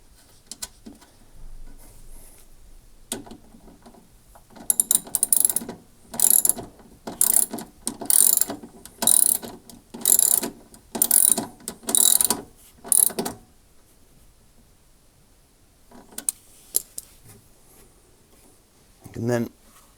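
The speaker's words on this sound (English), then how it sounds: "I can tighten it with the ratchet." A ratchet tightens a nut holding a shock absorber to the base of a Hotpoint washing machine, giving a close series of short, rapid clicking bursts in a steady rhythm, then stopping.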